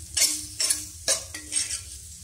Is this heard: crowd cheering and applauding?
no